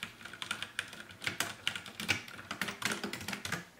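Rapid clacky keystrokes on a Ducky One 2 Mini RGB mechanical keyboard, a steady run of close, crisp presses and key combinations with no talking.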